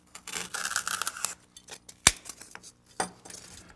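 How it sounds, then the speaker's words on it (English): Styrofoam being cut for a flower cemetery decoration: close, soft squeaky scraping strokes with one sharp click partway through, then a few quieter scrapes. "So we use our styrofoam, and let's cut that."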